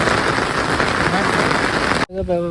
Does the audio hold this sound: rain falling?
yes